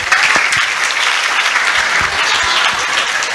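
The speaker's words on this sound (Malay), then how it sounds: "Jamaah tepuk tangan." Loud, close applause from a congregation at an Islamic religious gathering, dense steady clapping sustained throughout with a few sharper individual claps standing out.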